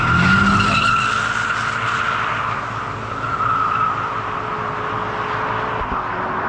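A 2025 BMW M5 spins its tires hard up a road in third gear, a continuous loud tire squeal riding over a steady engine drone for several seconds, with no talking.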